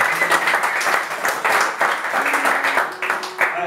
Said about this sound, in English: Another round of applause for that.